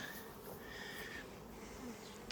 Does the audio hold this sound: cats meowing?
no